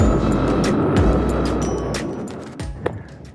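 Yamaha XSR700 motorcycle fitted with GIVI crash bars and a skid plate, riding along with a steady loud engine and wind roar throughout, ending in a couple of sharp knocks.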